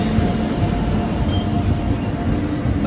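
An electric-engine passenger train, the Dadar–Tirunelveli service, pulls into a station with a steady, loud rumble of rolling carriages and a faint wheel hum throughout, no voices over it.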